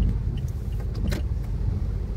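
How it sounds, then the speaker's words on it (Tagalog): Steady low rumble of a car moving through heavy, rain-soaked traffic on EDSA, heard from inside the cabin, with a few faint clicks and a brief brighter swish near the middle. "Grabe ang traffic."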